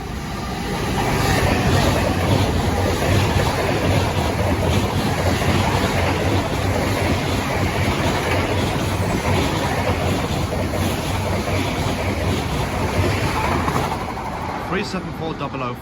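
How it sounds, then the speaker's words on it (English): A Eurostar Class 374 high-speed train runs past at close range, a loud, sustained rushing roar of wheels and air that builds in and holds for the whole stretch, with a voice talking under it. "the next train to pass by will be a Eurostar train"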